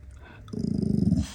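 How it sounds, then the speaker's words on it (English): Pet dog growling indoors, a low rumbling growl that begins after a short quiet stretch and rolls on in a continuous pulsing run for under a second, close and fairly loud. "Listen to that growl."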